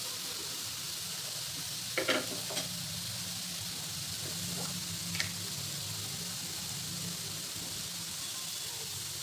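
Fasting-style upvas thalipeeth fries in ghee in a pan, giving a low, steady sizzle throughout, with a couple of brief soft clicks and stirring touches near the start and middle.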